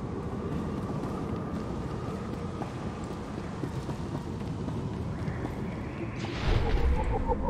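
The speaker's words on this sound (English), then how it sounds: "we have a tram system" A tram in the video game Star Wars: The Old Republic gives off a steady low rumbling hum of moving transport, running evenly throughout and swelling louder near the end.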